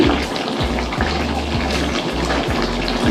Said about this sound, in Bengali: গরম জলটাকে দেবো